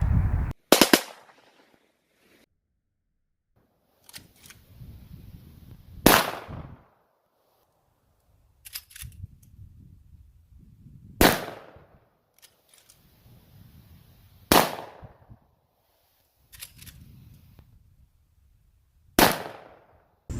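Revolver fired with live ammunition, loud sharp reports in quick clusters spaced several seconds apart, each with a ringing decay, some in rapid doubles or triples, with quiet handling noise between volleys and no talking.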